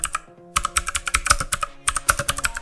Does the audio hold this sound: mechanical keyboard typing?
yes